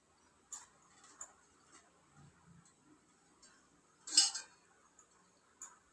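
Gongura leaves stirred in a cooking pot, heard as sparse, faint clinks and soft scrapes of a utensil against the pot, spaced irregularly, with one sharper knock near the end of a mostly quiet stretch.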